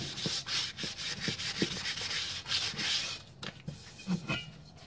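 Paint being rubbed back by hand on a part from a Honda CB350 motorcycle, steady rhythmic sanding strokes, close and fairly loud, with no talking.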